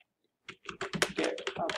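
Quick keystrokes on a computer keyboard in an Ubuntu terminal, a burst of close, dense clicks with a final press of the Enter key, close to the mic.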